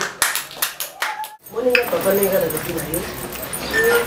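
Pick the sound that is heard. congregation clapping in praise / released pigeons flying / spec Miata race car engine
congregation clapping in praise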